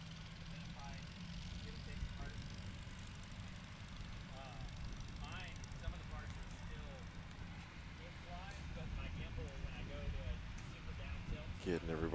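Light STOL tailwheel airplanes taxiing at a farm airpark during a competition make a continuous low propeller and engine drone in the background, with a voice talking steadily over it throughout.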